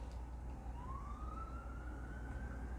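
A distant emergency vehicle siren rises slowly in a single long wail, faint over heavy low background rumble.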